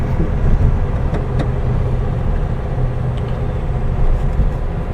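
A 1975 fuel-injected VW Beetle engine runs steadily, a loud close low rumble with a constant drone and a few faint clicks, no talking over it.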